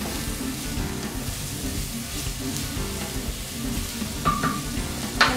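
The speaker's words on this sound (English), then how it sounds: "So we're going to fry the leek." Leek frying in a pan for chervil soup, a steady, close, continuous sizzle with faint stirring scrapes and a couple of brief clinks near the end, no voices.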